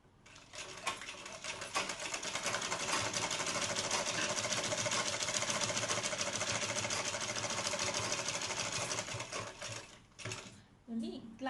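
A sewing machine stitches along a marked line on an old hand-worked saree, a steady fast mechanical whirr running close and unbroken for several seconds before stopping.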